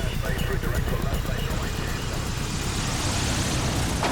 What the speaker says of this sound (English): The aircraft finally makes its landing approach with the pilot slowing to almost stalling speed to get the plane onto the runway as gently as possible.